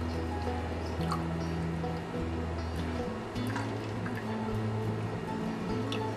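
Soft trickling and dripping of liquid gelatin being poured into a jar, close by, over a steady low hum with faint ticking sounds.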